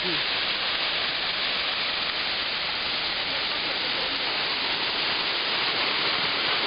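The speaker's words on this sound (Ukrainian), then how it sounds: "Вода проривається між двох маленьких щельних утворень і впадає в річку Ілемка." A small waterfall pours between two little rock formations into the Ilemka river, a dense, steady hiss of rushing water heard up close and unbroken throughout.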